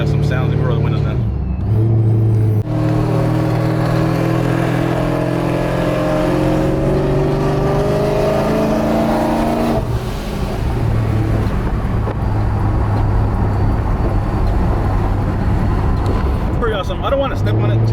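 A supercharged Pontiac G8 fitted with a ProCharger drives on the freeway, its engine droning loud and steady with rising and falling pitch as it accelerates, heard from inside with the window down, along with road and wind noise.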